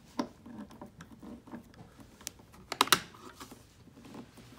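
Spring screw on the bellows of a Paul & Co. harmonium being loosened, sparse small metallic clicks and scrapes of a screwdriver, close and quiet, with a couple of sharper taps near the end.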